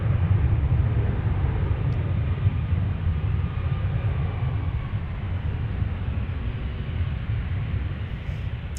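An Emirates airliner departs Dallas Fort Worth airport for Dubai, a loud, continuous low jet roar with heavy rumble that holds steady and only slightly eases over several seconds, with no talking.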